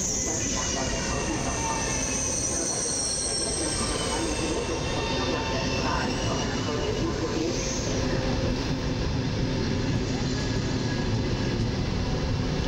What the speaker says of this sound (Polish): Podstawia się pociąg osobowy do Pilawy oraz wjeżdża Dziobak do Gdyni Głównej.